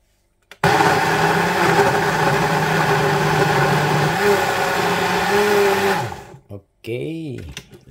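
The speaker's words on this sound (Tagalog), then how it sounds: "Okay, blender na natin." A kitchen blender whirs loudly and steadily on a fruit and vegetable mix with kiwi and cucumber for about five seconds, its pitch dipping under load, then cuts off abruptly before a voice begins speaking.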